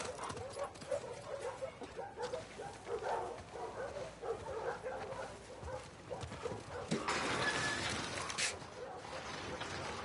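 A dog barks in the video game The Last of Us Part 2, with short yips and whimpers under ongoing talk and background game noise.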